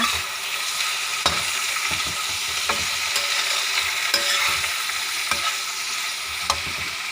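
Vegetables stir-frying in a pan, a steady close sizzle with sparse, sharp utensil knocks and scrapes spaced a second or two apart, no speech over it.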